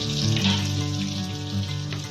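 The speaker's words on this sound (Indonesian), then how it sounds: "goreng yam goreng yam sayap pitik, goreng sayap pitik" Chicken wings frying in a pan in a Javanese village kitchen, with a steady bright sizzle running throughout beneath low sustained tonal sounds.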